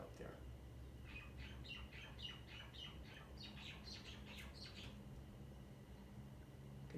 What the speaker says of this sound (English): You can hear the minor birds singing up on the roof.